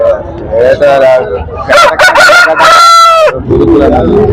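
A rooster crows loudly and close at a busy rooster market in Konganapuram, Salem, its drawn-out call rising and breaking off, with other fowl calling around it.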